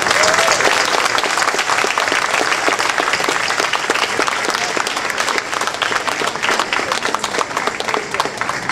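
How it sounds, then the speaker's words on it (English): Loud, sustained applause from a large audience at a kindergarten graduation, steady clapping throughout without a break. "I think they deserve another round of applause."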